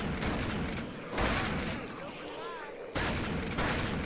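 Heavy automatic gunfire erupts in The Thing video game as a swarm of creatures floods the room, loud sustained bursts with a brief lull in the middle, voices shouting over the shooting.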